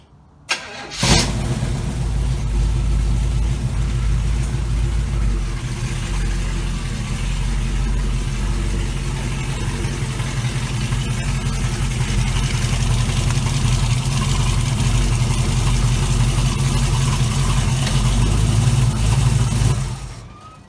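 A 1936 Chevy Coupe with a Crown Vic front end starts and runs while driving slowly forward, a loud, steady engine rumble close by that holds for about twenty seconds before cutting off.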